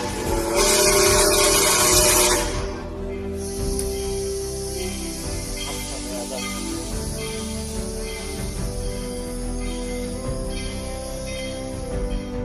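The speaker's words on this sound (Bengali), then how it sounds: "কিন্তু শেষ পর্যন্ত ট্রেনটি এসেই পড়ে।" A train comes in on a railway line where a car sits stuck on the tracks, opening with a loud blast of horn, then a steady rumbling rush of rail noise that carries on without voices.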